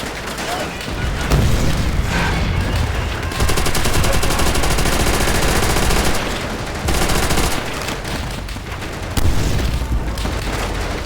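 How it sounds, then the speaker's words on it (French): Rapid bursts of machine gun fire and booming gunshots in the World War II shooter Call of Duty: World at War, loud and sustained across the clip with brief lulls, mixed with battle noise and shouted voices. "Mitrailleuse ennemie!"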